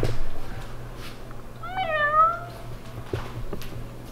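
A cat in a cartoon gives one clear meow that rises and then falls, over a low background hum, with no voices.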